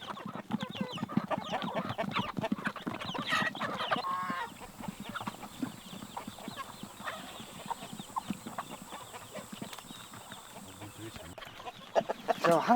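Chickens cluck continuously inside a chicken coop in a rural yard, a steady, busy stream of near and mid-distance calls over low background noise.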